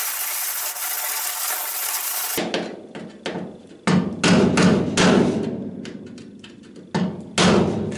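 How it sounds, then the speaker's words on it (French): Wire brush scrubbing a freshly brazed joint on the steel body of a Citroën Traction 11 BJ, in a series of short, rough, close bursts of scraping after a steady hiss. "La plaie étant soudée, tout de suite, je mets un coup de brosse."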